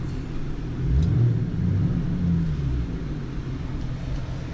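A Ford Mustang driving through slush, ice and snow, its low engine rumble swelling briefly as it revs with little traction, then settling into a steady drone close by.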